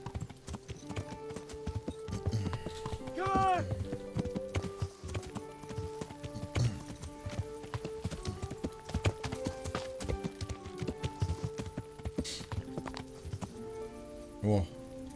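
Horse hooves clip-clop steadily in the medieval game Kingdom Come: Deliverance, a rhythmic trot running throughout with a brief whinny, mixed under game effects and someone talking over it.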